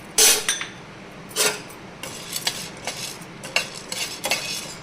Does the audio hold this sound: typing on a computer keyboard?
no